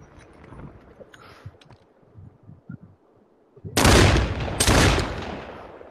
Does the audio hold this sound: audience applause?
no